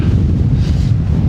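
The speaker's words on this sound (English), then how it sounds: "the wind has picked up." Strong wind buffets the microphone during a steep hill descent, a loud continuous low rumble with no other sounds over it.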